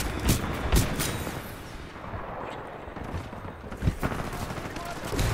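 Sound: Hemlok rifle gunfire in video game Titanfall 2

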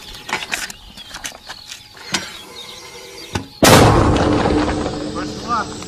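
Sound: mortar firing a shot

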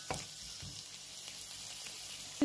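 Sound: onion sautéing in a pan

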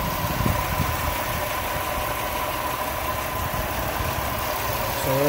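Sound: Chevy Impala engine running with a bad pulley bearing

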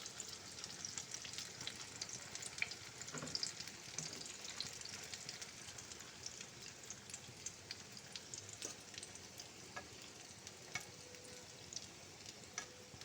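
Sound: potato and egg mixture spread with spoon, frying in pan

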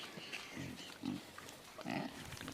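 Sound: pigs on a pig farm

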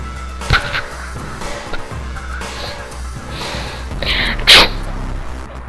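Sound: person imitating a sneeze

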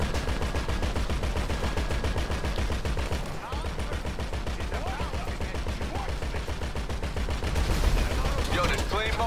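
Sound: gunfire in GTA 5 Online video game mission

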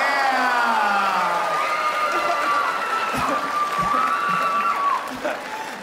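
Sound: audience applause and cheering

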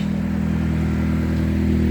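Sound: motorcycle with blown exhaust passing in traffic

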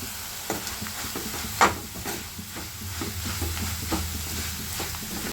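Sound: bitter gourd slices frying and being stirred in a pan

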